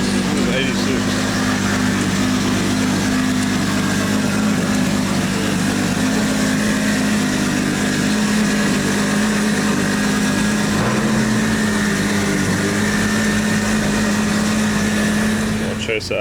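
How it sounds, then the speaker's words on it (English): A Lexus V8 idles amid a drifting event crowd in Japan, a steady low engine hum running throughout beneath loud background chatter and ambient noise. "I think this was the one with the V8 that I was hearing."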